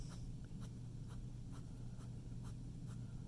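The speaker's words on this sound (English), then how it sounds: "each time I'm placing my pen directly on the paper and then flicking my wrist" An ink pen makes quick flicked shading strokes on paper, each one a short scratchy tick. The strokes repeat at an even rhythm, about two per second, over a low steady background hum.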